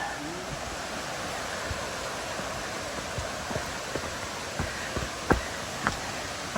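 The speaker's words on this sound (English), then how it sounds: "I can hear the falls." King Creek Falls on the Foothills Trail: a steady broadband rush of falling water fills the air, with occasional small knocks and footsteps over the constant roar.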